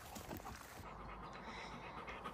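A dog pants steadily just before setting off on a walk, the quick breaths continuous and close throughout, with outdoor ambience behind and no talking.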